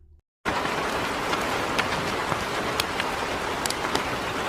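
Heavy rain pours down steadily in a dense, continuous hiss after a brief moment of quiet, with occasional louder drops pattering close by.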